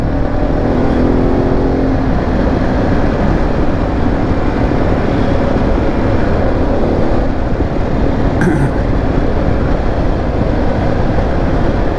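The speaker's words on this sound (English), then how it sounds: "Turns into an adventure bike to a sport bike at the flick of a switch." A Pan America adventure motorcycle ridden on Peak District roads gives a steady, close engine drone blended with heavy wind rush, holding an even loudness throughout with no talking.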